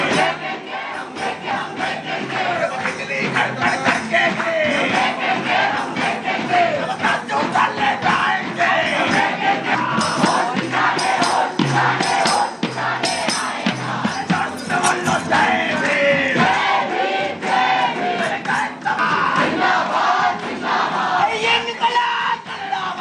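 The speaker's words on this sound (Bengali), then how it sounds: "অরবিন্দ ভবনের বাইরে এসএফআই এর বিক্ষোভ।" A large SFI student protest crowd gathers outside Aurobindo Bhavan at Jadavpur University, shouting and chanting slogans loudly and steadily throughout, with voices layered into a dense, continuous roar.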